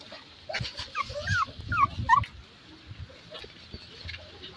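Small puppies, Shih Tzu, Beagle and Golden Retriever, let out high whimpers and yips in a short run of thin cries near the middle, close by over soft background noise.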